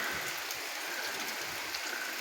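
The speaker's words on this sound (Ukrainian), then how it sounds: "Кожного дня йде дощ." Steady, dense hiss of rain falling continuously, even and unbroken, with no voices or other distinct sounds.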